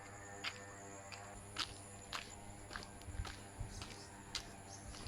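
Footsteps crunch along a mountain trail in a rural hillside setting, about nine spaced steps at an easy walking pace, fairly close, over a steady outdoor background hum with no talking.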